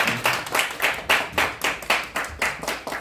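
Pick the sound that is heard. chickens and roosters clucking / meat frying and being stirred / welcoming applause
welcoming applause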